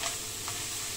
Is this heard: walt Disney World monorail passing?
no